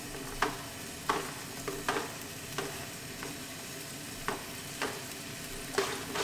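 Tomatoes go into a sizzling pan of Dall sheep chow mein. A spoon scrapes and stirs at a steady rhythm, with soft clacks over continuous frying.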